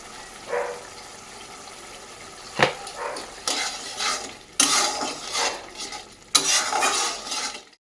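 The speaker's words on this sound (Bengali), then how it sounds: "মশলাটা কিন্তু ভালো মতন কষে গেছে" Spice paste of salt, turmeric, chili and cumin powder is stirred and fried in a pan, giving repeated scraping strokes and metallic clinks over a soft sizzle, with louder scrapes toward the end.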